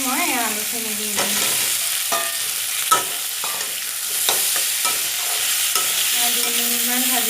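Potatoes fry in hot oil in a pan for an Assamese fish curry, a continuous close sizzle broken by repeated scraping and clinking strokes of a stirring spoon.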